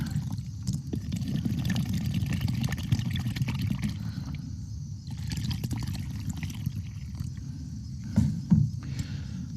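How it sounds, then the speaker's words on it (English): Water poured like rain onto a tray of conventional farm soil, a steady close pattering trickle that runs throughout with a brief louder splash near the end. "if we add water to our storm clouds and make it rain on this soil"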